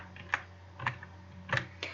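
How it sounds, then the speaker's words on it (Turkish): Loud, uneven keystroke clacks from a faulty computer keyboard, a few sharp hits spaced through the moment with a low steady hum underneath. "Klavye sesi fazla gelebilir. Klavyem çünkü bir arızalı da ondan dolayı arkadaşlar."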